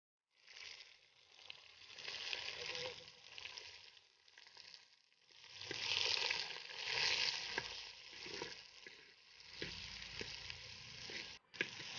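Chopped shallots sizzle steadily while frying in sesame oil alongside chili and cinnamon for a drumstick soup, a continuous crackling hiss that swells louder midway, with occasional stirring scrapes and no talking.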